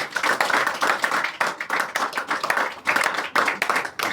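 A church congregation clapping to acclaim Jesus: loud, dense, rhythmic applause from many hands in steady pulsing bursts, with no talk over it.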